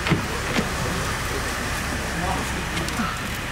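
Light rain patters steadily on surfaces around a parked Porsche, a soft, even hiss with a few scattered drops standing out, heard close with no talk.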